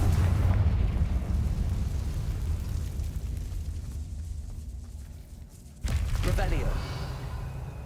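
A Confringo spell blasts in Hogwarts Legacy, a dense low rumbling explosion that fills the first seconds, fades, then a second sharp burst hits near the end over a lingering roar.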